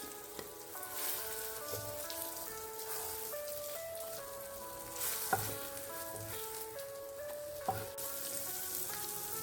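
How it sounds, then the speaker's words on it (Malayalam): Brinjal pieces fry in hot oil for a curd curry, giving a quiet, continuous sizzle with scattered crackles and a couple of sharp pops. Soft tonal music plays over the frying throughout, with no talking. "ബാക്കിയുള്ളതും കൂടി വറുത്ത് ഊരിയെടുക്കാം"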